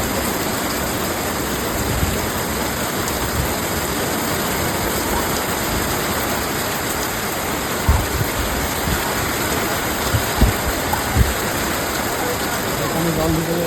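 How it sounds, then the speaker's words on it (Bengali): Heavy rain pours down in strong wind as a loud, continuous, dense roar that fills the whole stretch, with a few faint knocks mixed in. "বিশ্বাস করতে পারবে না কত জোরে হাওয়া দিচ্ছে আর কত জোরে বৃষ্টি হচ্ছে।"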